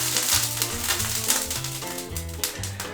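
A potato and onion mixture sizzles in hot cast iron pans with a steady crackling fry, moderately loud, over faint background music.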